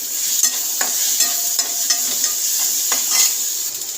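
Peanuts, roasted chana, mustard seeds and curry leaves fry in oil for peanut chutney, a bright continuous sizzle with light scrapes and clicks of stirring, close and fairly loud, no voices.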